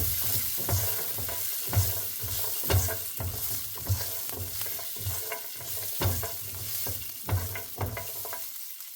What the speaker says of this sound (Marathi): आता हे फ्राय करून घ्यायचे आहेत गोल्डन ब्राऊन. हे लगेच होतात.